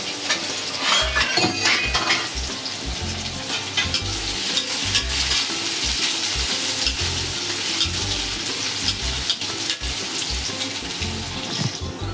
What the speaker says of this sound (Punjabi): ਪਿਆਜ਼ ਨੂੰ ਪਹਿਲਾਂ ਹਲਕਾ ਜਿਹਾ ਬ੍ਰਾਊਨ ਕਰ ਲਵਾਂਗੇ